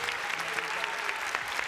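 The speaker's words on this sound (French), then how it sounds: "Applaudissements pour Gisèle Flavy, mesdames, messieurs, s'il vous plaît" Studio audience applause greeting a guest on a French TV show, a brief, even burst of many hands clapping at moderate loudness.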